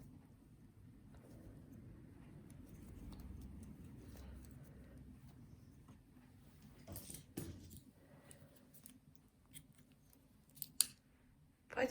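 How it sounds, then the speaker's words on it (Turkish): Scissors snip through leftover knitting yarn while finishing a two-needle knitted baby bootie, a few quick close cuts following a soft, steady rustle of handling. "şöyle ipimi kesip çektireceğim bundan sonra"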